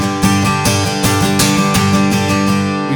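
An acoustic guitar is strummed lightly and quickly with an angled pick, giving a steady, even rhythm of soft down and up strokes that ring together in a full, smooth wash, played alone and close.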